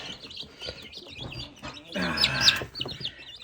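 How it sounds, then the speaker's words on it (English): A rooster with a white spot on his head calls in a farmyard, a brief, louder burst rising over steady chick chirping and soft clucking nearby. "that one's definitely a rooster with a white spot on his head"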